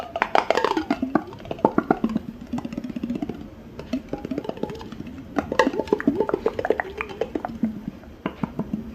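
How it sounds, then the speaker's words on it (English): Repeated light taps on a water-filled glass mason jar, ringing pitched tones in uneven bursts, close and fairly loud. "I just filled up that mason jar with water, and this makes like the craziest sound I've ever heard of"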